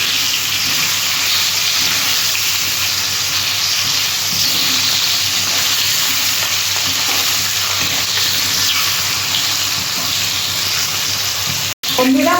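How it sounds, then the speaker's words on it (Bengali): Singi fish fry loudly in mustard oil with a constant, close crackling sizzle for over twelve seconds as the pieces are flipped, broken by a brief gap near the end. "মাছগুলো একটু ভাজা হয়ে গেছে,"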